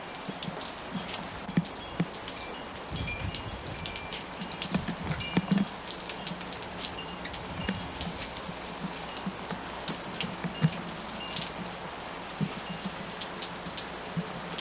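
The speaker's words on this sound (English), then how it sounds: "It's raining." Steady rain falls outdoors with a continuous soft hiss and scattered sharper drop taps on nearby surfaces, fairly quiet and unbroken for the whole stretch.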